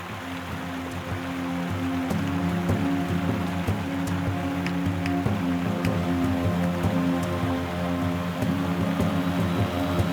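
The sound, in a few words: river flowing along a jade riverbed in New Zealand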